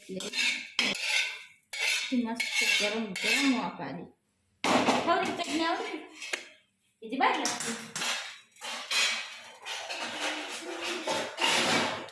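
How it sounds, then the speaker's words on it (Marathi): Peanuts dry-roasting in a pan while being stirred, a steady scraping and rattling of metal utensil against the pan in long bursts with brief pauses, up close. "तोपर्यंत आता शेंगदाणे भाजून घेते"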